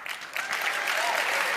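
Applause from a political conference audience at CPAC 2023, a steady, dense clatter of many hands clapping. It swells slightly after a softer start and holds at full strength with no voices on top.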